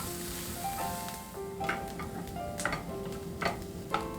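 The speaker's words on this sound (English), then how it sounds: "Now I'm going to saute this for 2 minutes." Chopped onions, garlic and ginger sautéing in hot oil in a pan, a steady close sizzle with a few light clicks and taps over it, no voices.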